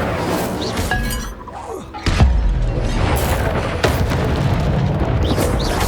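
An Incendio fire spell goes off in Hogwarts Legacy: a sharp crackling blast with a heavy booming impact and glassy shattering debris, loud and close amid ongoing combat noise.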